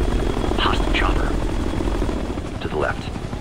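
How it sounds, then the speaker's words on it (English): Hostile helicopter in the shooter game Ghost Recon Future Soldier, its rotor drone steady and loud throughout, with radio-style voices and combat chatter over it. "Hostile chopper."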